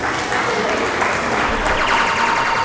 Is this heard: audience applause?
yes